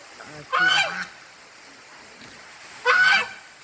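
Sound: African ducks calling

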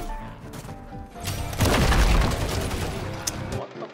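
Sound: gunfire in video game Modern Warfare 3

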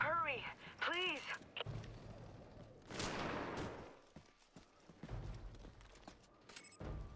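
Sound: gunfire in video game Army of Two: The Devil's Cartel

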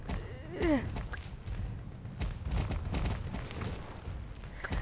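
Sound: horse hooves in a video game

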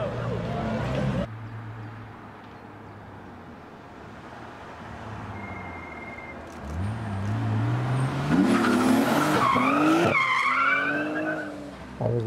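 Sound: car drifting on street with tire squeal

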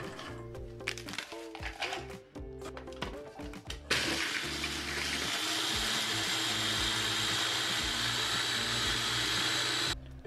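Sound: blender grinding biscuits

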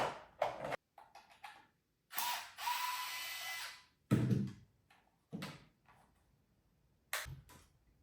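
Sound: cordless screwdriver opening a product

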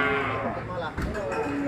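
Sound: cattle mooing at a cattle market

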